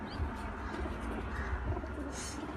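Pigeons being readied for a flying contest coo softly and repeatedly close by, their low rolling calls running under a steady background hum, with a brief higher chirp near the end.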